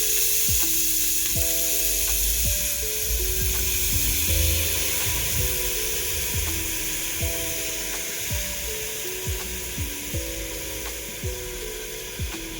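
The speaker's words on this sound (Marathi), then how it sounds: "तांदूळ छान तुपामध्ये परतून झाला." Soaked rice fries in ghee in a pressure cooker, giving a steady, close sizzling hiss throughout, broken by repeated clinks and scrapes of a spoon stirring the grains.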